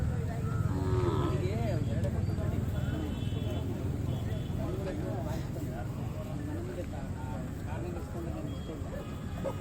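Cattle at the Magadi cattle fair moo in deep, drawn-out lows close by, under near-constant conversation and crowd chatter.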